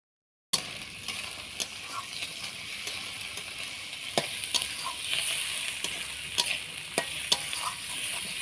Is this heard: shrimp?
yes